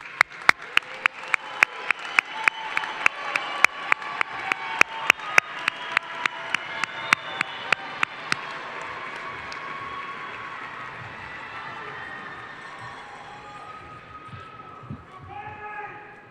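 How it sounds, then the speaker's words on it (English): Applause for a graduating high school class at a 2022 ceremony, a crowd clapping with sharp close hand claps in the first half, thinning out and fading toward the end. "Quick round of applause for the whole class"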